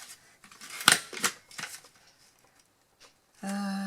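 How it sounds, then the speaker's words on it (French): Scissors snip through paper during an autumn happy-mail craft session, a few quick crisp cuts close by, followed by a brief steady tone at the end. "Et là, on vient découper."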